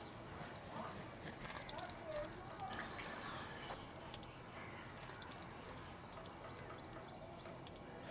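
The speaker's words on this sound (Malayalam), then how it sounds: "വെള്ളം പോയിക്കൊണ്ടിരിക്കണ കണ്ടില്ലേ?" Water pours steadily from an open tap left running, a continuous splashing wash with some dripping, heard under people talking nearby.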